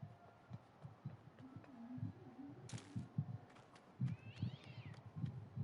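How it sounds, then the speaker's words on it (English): A stock cat sound effect meows a few times at moderate loudness, with scattered short thumps and clicks alongside it. "That stock cat sound."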